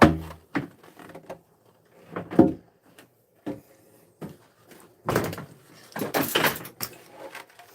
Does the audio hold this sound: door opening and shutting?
yes